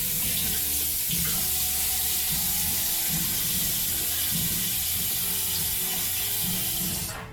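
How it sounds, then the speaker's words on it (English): Food being rinsed under a running kitchen tap, a steady close stream of water splashing into the sink for several seconds, with no talking. "All right, we're gonna rinse this off."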